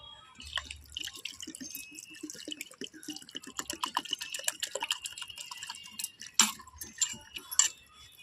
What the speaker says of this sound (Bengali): এবার আমি এতে দিয়ে দেবো জল।